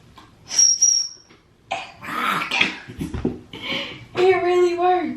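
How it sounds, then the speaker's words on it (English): A few short, shrill whistle toots from a tiny Nike swoosh shoe-charm whistle, blown up close, with breathy blowing and coughing-like bursts around them. "It's like a whistle, but it's a Nike check at the same time. But it's a whistle"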